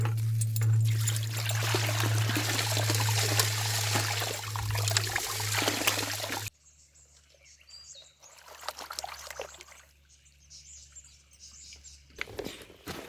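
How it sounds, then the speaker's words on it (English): Water pours to wash down a gold pan outdoors while prospecting, a steady trickle and splash that later grows fainter and intermittent, with birds calling in the background. "Now I've got to do the tricky 3-finger plug while Mick washes this down"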